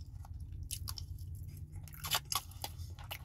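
Close-up chewing of moro (rice and beans) and sweet fried plantains: soft, wet mouth sounds with irregular small crunches and smacks, quiet and intimate with no talking.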